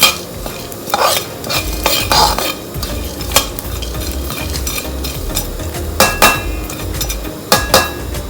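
Whole spices dry-roasting in a pan as they are stirred, with repeated sharp scraping and clinking strokes of a utensil against the pan over a low crackle, close and fairly loud, no voices.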